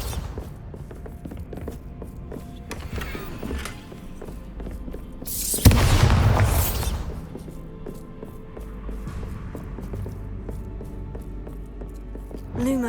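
A Bombarda blasting spell detonates in Hogwarts Legacy, a single loud burst of explosion with a rumbling tail that fades over about a second, set amid quieter game ambience and footsteps.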